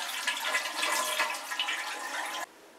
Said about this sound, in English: And now flush the toilet.